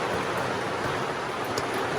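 Rain falls outside in a steady, even hiss of drops with no let-up, moderately loud and heard alone.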